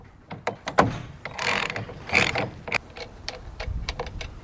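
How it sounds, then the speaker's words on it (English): Ratchet with a 13/16 socket loosening the center nut on a steering hub, giving sharp irregular clicking bursts with brief rasping runs of pawl clicks, close and alone. "you're going to want to use a 13/16 socket to remove the center nut"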